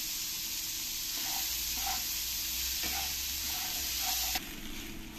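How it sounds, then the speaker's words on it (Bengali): Soybeans fry in hot oil in a kadai, seasoned with salt and turmeric, giving a loud, steady close-up sizzle with a few soft stirring knocks before it briefly eases near the end. "এবারে সয়াবিনগুলো আমি ভালো করে একটু ভেজে নেব।"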